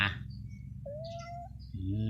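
A domestic cat gives a single drawn-out, fairly faint meow amid a steady low hum of background noise.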